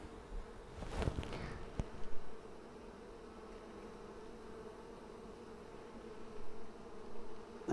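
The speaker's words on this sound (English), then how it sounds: "Look at all these bees just patiently waiting here." Honey bees from a Flow Hive split hum in a low, continuous buzz close by, with a louder burst of movement near the start and a few swells toward the end.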